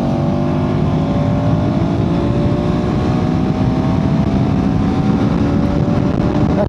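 A KTM 390 Adventure R single-cylinder motorcycle accelerates hard. Its engine note climbs steadily under loud, constant wind rush, and the rising tone continues throughout.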